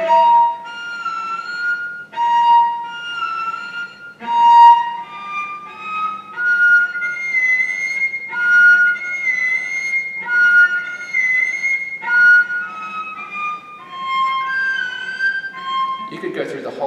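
The opening of Piatti Caprice No. 3 played entirely in cello harmonics with light finger pressure, a thin, glassy melodic line of sustained bell-like notes moving in short phrases, clear and close with no voice over it.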